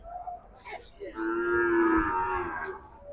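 A heifer calf at the Noymail cattle market in Chuadanga gives one long, drawn-out moo that swells and then fades, heard nearby over quiet market background with no talking.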